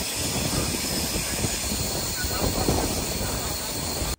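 The Rajdhani Express stands at platform 2 of Bareilly Junction in Uttar Pradesh, with a dense, continuous broadband roar of train and station noise at a steady level and a faint high whine overhead, no talk heard.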